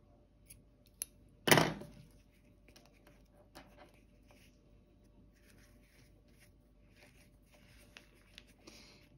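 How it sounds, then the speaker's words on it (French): Scissors give one sharp, loud snip through pink yarn while crocheting a caterpillar, followed by soft handling rustles and faint clicks in an otherwise quiet room. "Je vais couper mon fil rose."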